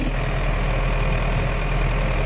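A tractor engine idles steadily while powering front-mounted hydraulic brushes during pruning-wood shredding, a loud, constant low rumble with a faint knocking texture and no voices.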